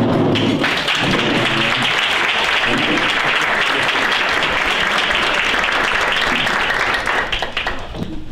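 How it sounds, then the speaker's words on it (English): An audience applauds new members standing up at a leadership and culture panel event, a loud sustained wash of clapping from many hands that fills the whole stretch and begins to thin toward the end. "give you a little round of applause"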